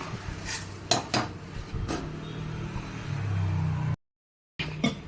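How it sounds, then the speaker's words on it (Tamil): A spoon stirs and scrapes ingredients with salt in a metal cooking pot, giving several sharp clinks and knocks over a low steady hum, with a short gap of silence near the end. "சேர்த்து எல்லாம் நல்லா கலக்கி கொடுக்கணும்."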